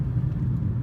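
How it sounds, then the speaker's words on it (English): Steady low-pitched road rumble inside a 2015 Toyota Prius C subcompact hybrid while driving, a constant drone with no voices over it. "there is a lot of road noise."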